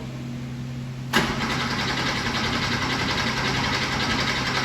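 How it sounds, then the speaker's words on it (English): A 1986 Porsche 911 Targa engine, long abandoned in storage, cranks without starting: a loud, sustained mechanical churn kicks in abruptly after a second of quiet and carries on evenly. "Keep cranking. We got nothing."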